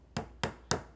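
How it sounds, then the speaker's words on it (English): A small wooden hammer taps a glued dowel into a wooden floating shelf, three sharp evenly spaced knocks, close and clear, with no talking. "Get my little wooden hammer"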